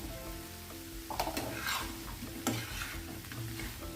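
Fried paneer going into a pan of sizzling chilli paneer gravy, soft steady frying hiss with a few stirring and scraping knocks, faint and close.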